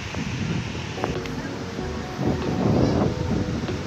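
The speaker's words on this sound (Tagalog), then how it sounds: "Sobrang mahangin po. Lamig ng ano, lamig ng hangin." Strong, cold wind buffets the microphone in a steady roar at Rizal Park in Manila, with gusts swelling louder toward the end and no speech.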